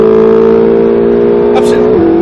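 Ferrari 458 Italia engine holding a steady, loud high-revving drone under rolling throttle, pitch dipping slightly near the end, with a brief hiss midway.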